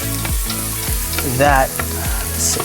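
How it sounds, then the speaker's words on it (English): Onions saute in a pan for Filipino chicken tinola, giving a continuous close sizzle. Rhythmic scraping stirs cut through it, with a brief squeaky scrape midway. "Always saute those onions, man."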